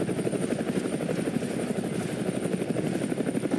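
Steady helicopter rotor thrum from the GTA video game, a dense rapid beating that holds constant and fairly loud for the whole stretch, with a thin high whine above and no talk.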